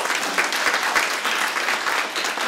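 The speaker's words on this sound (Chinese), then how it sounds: "我们是不是要给他一个掌声？" An audience at a county government celebration of Indigenous Peoples' Day claps steadily in dense, continuous applause at close range, with no pause through the whole stretch.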